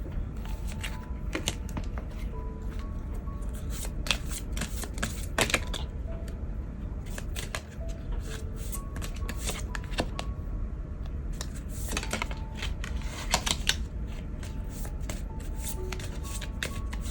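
Tarot cards shuffled by hand at close range, a steady run of crisp riffling and sliding card noise with frequent sharp snaps, continuing alone for the whole stretch with no talk.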